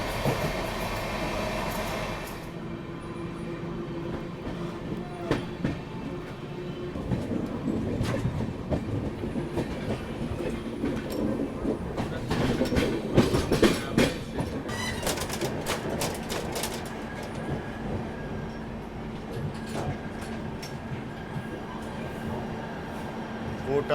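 The Bilaspur Bhagat Ki Kothi Express runs along the rails in a steady, loud rumble with rhythmic clickety-clack wheel beats and a few sharp metallic rattles, heard from inside the train with occasional background voices.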